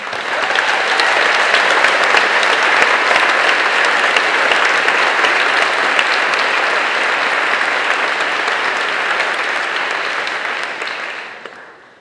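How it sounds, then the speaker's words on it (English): Sustained audience applause fills a college commencement hall for about twelve seconds, steady and dense throughout before tapering off at the very end, with no voices over it. "Let's applaud."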